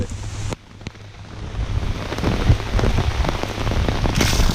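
Heavy rain pours steadily in a dense, roaring hiss during tent camping in Ohio, with a brief dip in loudness near the start before the downpour swells again.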